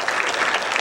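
Audience applause at a school jazz ensemble concert, a dense, steady clapping from a crowd, loud and close, filling the short moment on its own.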